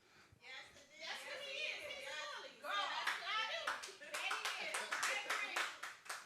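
A group of people clapping in a room, with scattered individual claps building into rapid overlapping bursts over several seconds, mixed with voices talking at moderate loudness.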